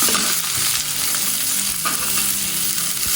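Loud, steady sizzling of onions frying in hot oil, with occasional scraping stirs, close and continuous.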